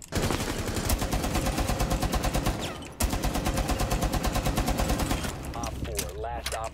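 Rapid automatic gunfire in Rainbow Six Siege, loud and close, runs in two long steady bursts separated by a brief gap before trailing off into talk at the end.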